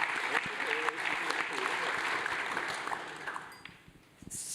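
Audience applause welcoming a guest and speakers onto a leadership conference stage, a steady dense clapping that fades over the last second, with faint voices mixed in.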